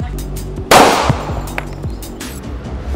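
One sharp, loud gunshot from a semi-automatic handgun rings out close by, then a short decaying echo over a low mechanical hum.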